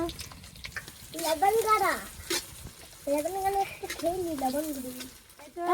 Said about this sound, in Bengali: পেঁয়াজটা লাল করে ভেজে তুলে নেবো।